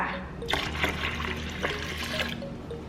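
Plain water, 650 ml, is poured for Thai khanom krok batter, a soft continuous splashing pour heard close for a few seconds with gentle gurgling swells.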